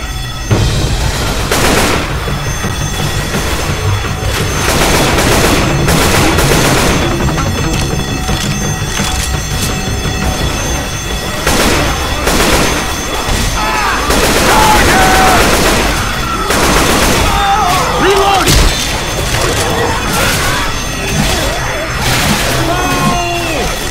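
Dense, loud gunfire from the Left 4 Dead 2 Blood Harvest campaign: rapid bursts and booming shots pile up almost continuously alongside game effects, with voices calling out over the shooting.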